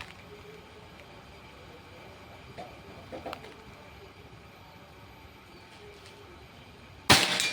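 After several seconds of quiet ambience with faint clicks, one loud, sharp shot from a Predator Pajero Gen 6 PCP air rifle, charged to 2500 psi, snaps out near the end.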